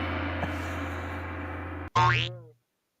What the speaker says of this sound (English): I think that's like boing.